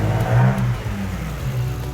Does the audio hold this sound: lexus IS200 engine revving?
yes